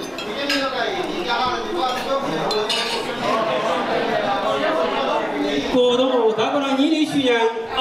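Glasses clink together during a toast at a banquet for a 1981 middle-school class reunion, the clinks mixed into loud, steady crowd chatter and talking voices throughout.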